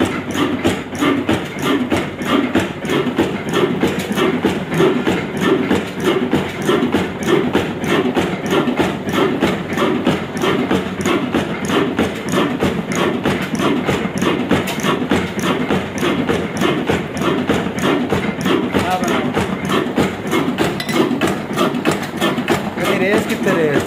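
A vintage Ruston Hornsby black diesel oil engine drives a mini flour mill with a steady, loud, rapid thumping chug that continues without a break, mixed with mechanical clatter from the mill.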